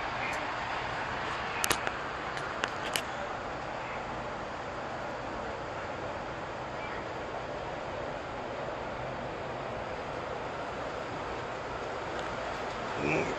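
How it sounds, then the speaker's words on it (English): A G scale model train rumbles steadily along the track, a continuous moderate rolling noise with a few brief clicks near the start. "Let's see if we can get this train coming down here through this."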